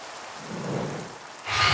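Steady rain falling at night in the Minecraft video game, a soft continuous hiss that swells louder near the end, heard alone without talk.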